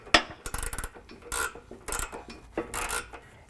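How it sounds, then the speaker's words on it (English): Ratchet tightening a 13 mm bolt on a Havoc Offroad HS3 black hoop step bracket on a Ford F-series SuperCrew, with several short bursts of rapid clicking, close and moderately loud, separated by brief pauses. "we're going to tighten that down with a 13 millimeter up top"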